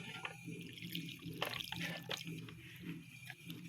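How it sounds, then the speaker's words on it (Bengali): Small splashes and dribbles of water poured a little at a time into flour, a few wet drips and trickles over a quiet room background. "এখন অনেক অল্প পানি দিব"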